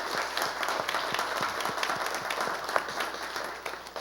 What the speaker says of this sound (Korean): 다시 한번 우리 한번 감사의 박수로 하나님께 영광 돌리고.